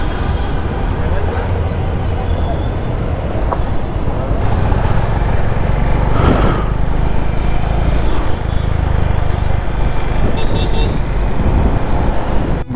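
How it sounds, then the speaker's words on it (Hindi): Busy Bangalore road traffic rumbles loudly and continuously, with engines droning nearby and several short horn toots cutting through, while someone talks over the noise. "बहुत ट्रैफिक है भाई साहब"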